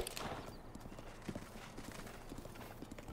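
Horse hooves clip-clop steadily at a riding pace in The Legend of Zelda: Breath of the Wild, a faint, quick rhythmic patter under quiet game ambience.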